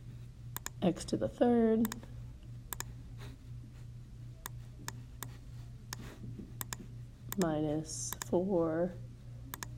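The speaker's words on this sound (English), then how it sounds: "I'm going to type in that polynomial" Calculator keys are pressed while a polynomial is entered, giving a scattered series of short, sharp clicks over about ten seconds, heard under a person speaking.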